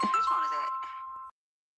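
A mobile phone notification chime rings out during an indoor podcast conversation, a single bright melodic tone with a short tail, close and clear, with a voice briefly overlapping at its start.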